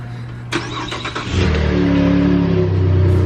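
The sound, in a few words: V6 truck engine cold start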